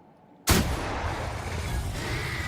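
A single sharp gunshot blast in the video game The Outer Worlds bursts out after a quiet moment, followed by a long rumbling echo that slowly fades.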